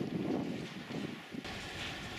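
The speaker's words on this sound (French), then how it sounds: "À cette altitude, un vent frais, rafraîchissant, est le bienvenu." A cool breeze blows at altitude outside a hilltop church in Venasque, Vaucluse, giving a soft, fluctuating rush of wind against the microphone that swells and eases without any voices.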